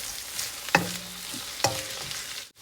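Rice and chicken being mixed in a pan over a steady background sizzle, with two sharp scraping strokes of a utensil against the pan and a brief quiet gap near the end; no talking.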